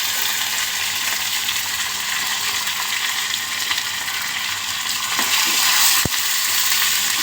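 Curry leaves dropped into hot oil give a steady, loud, hissing sizzle throughout, swelling slightly near the end with a brief clink, no voices over it.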